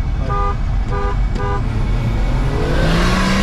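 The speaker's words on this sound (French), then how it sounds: "À 20, je mets 3 coups de klaxon." A car horn sounds three short, evenly spaced toots over a steady engine hum from a BMW, followed by the engine note rising as the car pulls away.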